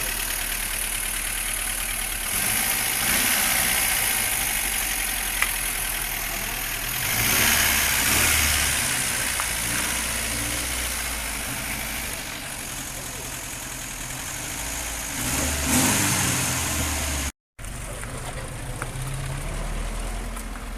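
A Moskvich car engine idles with a rough, uneven rumble, the car shaking, swelling briefly as it is revved, while voices talk nearby.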